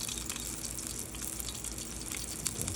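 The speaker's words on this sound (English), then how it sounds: "Water's starting to boil pretty quick in it." Water boils in a pot heated by a small Esbit stove burning two fuel tabs, giving a steady, soft rushing and bubbling hiss throughout.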